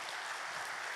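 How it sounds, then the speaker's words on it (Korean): A church congregation applauds in a steady, soft wash of clapping that fills the whole short moment without pause. "우리 다시 한번 더 영광의 박수 올려드리도록 하겠습니다"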